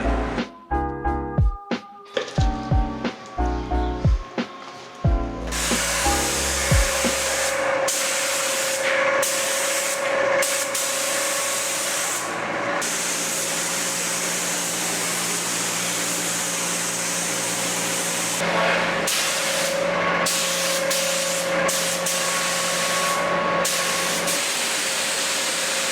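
A spray gun applies filler primer to a Mazda Demio, giving a long, steady, loud hiss that runs for about twenty seconds with only brief dips. Several clanks and knocks come before the spraying starts.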